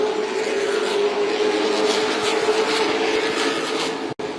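Race cars roar past at Hickory Motor Speedway during a close battle for position, a loud sustained engine drone with no speech, ending in a sudden brief dropout.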